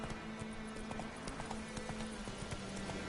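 The horse Roach trots in The Witcher 3 video game, its hooves clip-clopping in a steady, quick rhythm at moderate distance, faint and continuous.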